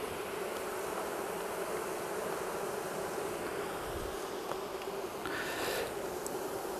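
Honey bees buzz steadily around an open hive while it is being split, a dense, even insect hum that holds close and constant throughout, with no one speaking.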